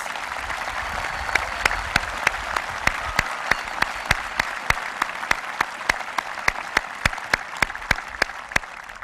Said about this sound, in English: please give a big round of applause and congratulations to all of our local awards scholarship winners